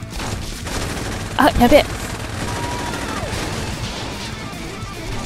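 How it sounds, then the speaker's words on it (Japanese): A short burst of gunfire and impacts in the video game Saints Row 2, a loud cluster of cracks lasting about half a second amid steady game ambience, with someone speaking briefly. "ここから撃って爆発させればいいんじゃないか"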